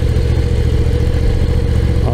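A Moto Guzzi V9 Roamer motorcycle being ridden while its engine is still breaking in, giving a loud, steady, low mid-pitched drone with a slight rise near the end, with a rider speaking over it.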